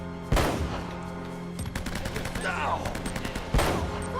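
Desert Eagle pistol shots in the Uncharted video game crack out loud and sharp, one at the start and one near the end, with rapid bursts of other gunfire and a game mix in between.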